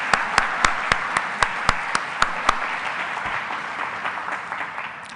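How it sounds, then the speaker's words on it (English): A conference audience at an awards and town hall gathering breaks into applause, opening with a few sharp, distinct claps that blend into a steady, moderate patter fading near the end. "Let's give them a round of applause."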